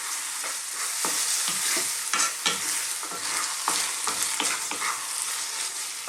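Moussaka filling cooking over low heat in a pan, stirred often with rhythmic scraping strokes over a steady close sizzle of frying, with no voices.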